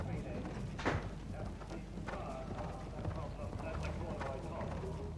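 Small horse galloping hard over a cross-country eventing course, hoofbeats blurred into a steady drumming under constant commentary and crowd noise.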